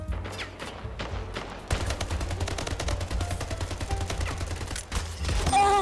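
Gunfire from the video game Splitgate, including shotgun shots, comes as a loud, rapid string of repeated shots that grows denser partway through and continues without talking.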